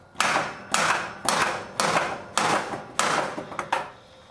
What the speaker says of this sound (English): I'm going to get the hammer again. I'm going to start banging on it.